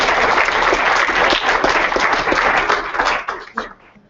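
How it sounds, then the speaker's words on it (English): Audience applause at a leadership panel event, a dense, loud burst of clapping from a crowd that holds steady for about three seconds and then thins out and fades. "let's give another round of applause"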